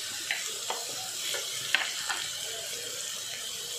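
Dry coconut, asafoetida and turmeric are sautéed and stirred in a pan for a capsicum kairas, with a soft sizzle under light intermittent scraping strokes.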